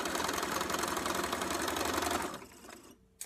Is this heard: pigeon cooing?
no